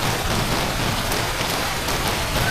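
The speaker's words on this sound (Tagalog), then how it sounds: "Makasang ulan ha." Heavy rain pours down steadily and loudly, a dense continuous hiss of drops close by with no voices.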